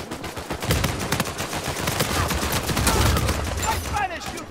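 Rapid gunfire from a shootout in Uncharted 4: A Thief's End multiplayer, dense continuous bursts throughout, loud and close with shouting voices mixed underneath.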